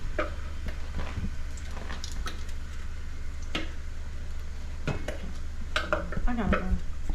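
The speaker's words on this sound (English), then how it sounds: "Now with the onions, you just saute them till they're translucent." Onions sauté in a pan with a soft, steady sizzle beneath scattered scraping and clinking of a utensil stirring, the sounds close and moderately quiet.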